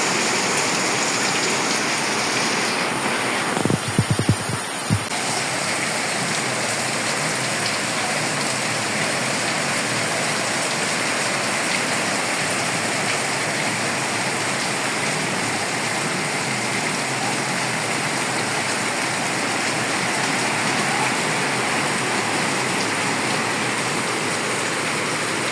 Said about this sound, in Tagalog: Napakalakas ng ulan na naman.